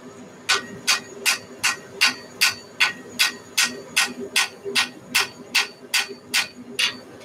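A hammer ball striking the seam of a hot Viking axe during forging: about fourteen sharp, evenly spaced metallic blows, loud and close, over a low steady hum.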